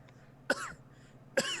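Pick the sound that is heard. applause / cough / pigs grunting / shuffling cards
cough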